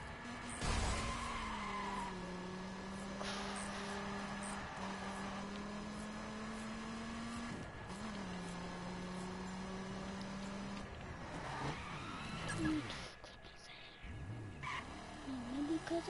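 A Lamborghini driven fast with tires skidding and squealing, a steady engine drone running under a long screech, fairly close and loud, with brief voices near the end.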